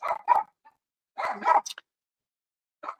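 A dog gives a few sharp barks close by, in two quick pairs and then a single yip, with silent gaps between them.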